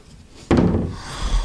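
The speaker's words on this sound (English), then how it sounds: "Door opens lovely." Wooden front room cabinet door opening with a single sudden knock-like thud, followed by a short creaking, rattling tail, close and fairly loud.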